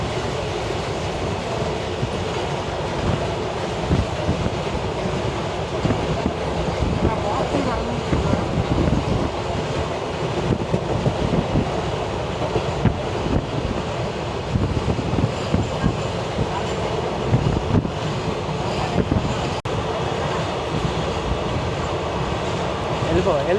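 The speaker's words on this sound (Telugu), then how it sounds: "మన ట్రైన్ అవుతుంది గుడ్స్ రైల్తో పోటీ పడుతుంది" A passenger train on the Kharagpur to Prayagraj route runs alongside a goods train: a continuous close rumble with rhythmic wheel clatter and occasional sharper clanks throughout.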